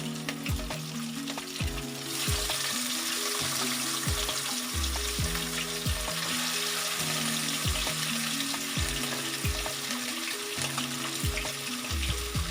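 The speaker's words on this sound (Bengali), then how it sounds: "নুন হলুদ মাখা মাছটা তেলে দিয়ে দিচ্ছি।" Salt-and-turmeric-coated katla fish fries in mustard oil, a loud, dense sizzle that swells as the pieces hit the oil and keeps crackling steadily throughout.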